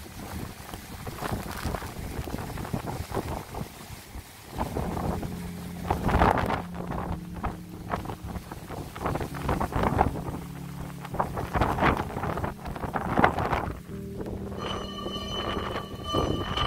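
Strong gusting wind from Super Typhoon Hagibis in Chiba, Japan, buffets the microphone with a steady roar that rises in surges, swelling and easing without pause.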